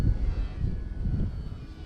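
An E-flite Clipped Wing Cub radio-controlled plane's engine drones steadily during takeoff, a moderate, continuous low hum with wind rumble, no voices.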